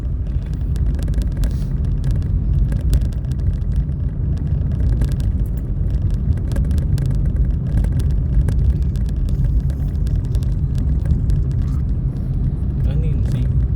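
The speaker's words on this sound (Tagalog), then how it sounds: "Oh, grabe yung traffic." Steady low rumble of road traffic from inside a moving car stuck in heavy traffic, engine and road noise droning continuously and fairly loud throughout, with people talking over it.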